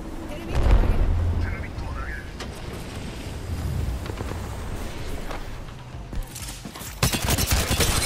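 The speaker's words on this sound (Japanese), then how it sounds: "テルミットグレネードを投げた。" A thermite grenade thrown in Apex Legends: loud fiery blasts and crackling bursts over steady game noise, with a sharp burst near the end.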